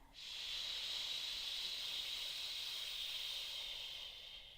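A long, steady shushing SH exhale follows a breathing exercise, smooth and sustained for about four seconds before tapering off, close and alone.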